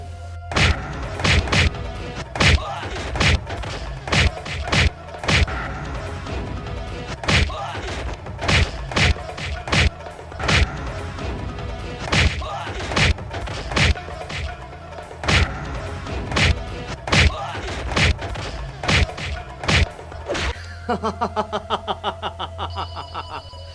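Repeated punches and heavy thuds land in a rapid, loud barrage during a Haryanvi film fight scene, with a short rattling burst at the end and no clear talk over the blows.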